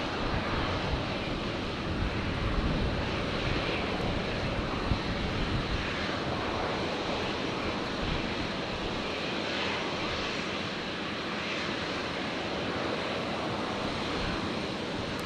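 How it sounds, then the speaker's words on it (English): A Jetstar Airbus A321neo in new livery departs Brisbane airport, its engines a loud, steady broadband roar that holds for the whole stretch, with no voices. "That beautiful new livery on the Jetstar 321 Neo heading back out"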